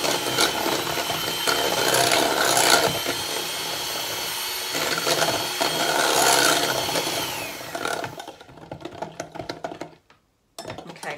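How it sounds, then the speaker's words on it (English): Coconut flour wrap batter is whisked in a bowl, giving close, brisk scraping and rasping strokes in rhythmic bursts that thin into a few scattered taps and then stop. "Now I'm going to whisk it because I don't want coconut flour lumps in my"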